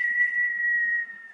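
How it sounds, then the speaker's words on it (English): A single high, sustained whistle made through the teeth, holding one steady pitch for more than a second before it fades, with nothing else around it. "it's hard to whistle through your teeth"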